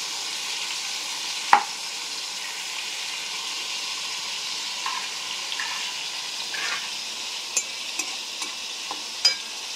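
Stuffed pointed gourds (potol dorma) fry in a pan with a steady, even hiss, broken by a sharp clank and a few soft scrapes and taps; no talking.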